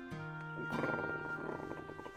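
An old stable cat in a cartoon purrs softly and rhythmically, a low vibrating rumble close by, faint and continuous over a couple of seconds.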